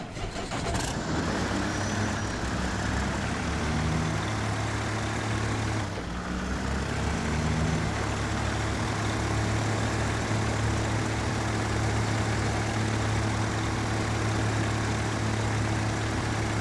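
A Cameron C500 truck from the video game SnowRunner drives with a steady, droning engine rumble and a constant low hum, loud and unbroken throughout, with a brief click near the start.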